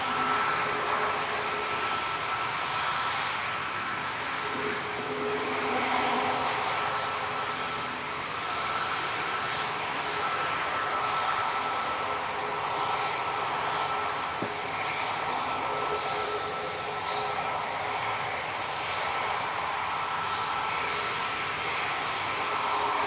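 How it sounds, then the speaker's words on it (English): A Ryanair Boeing 737 MAX 8 departs Manchester Airport with a steady, moderately distant jet roar that holds evenly throughout, a faint tonal whine running beneath the broadband rumble. "Ryanair 3206 to Rome Ciampiano, departing"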